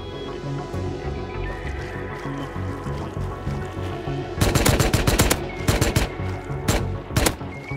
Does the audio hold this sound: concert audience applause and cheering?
no